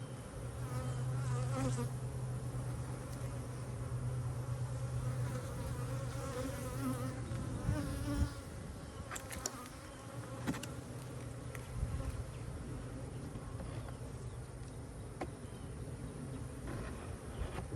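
Honey bees swarm around an open hive during an inspection, a dense, continuous buzzing drone close by that fills the whole stretch, with occasional knocks and scrapes from handling the frames.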